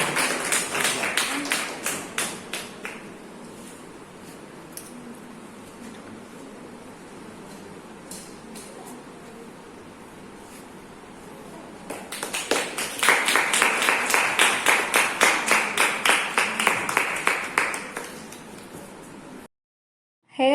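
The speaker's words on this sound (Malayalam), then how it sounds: "നല്ലൊരു കയ്യടി കൊടുക്കുന്നത്." An audience claps at a hair-donation haircut event, first in a short burst, then loud, fast, sustained applause that builds and cuts off abruptly near the end.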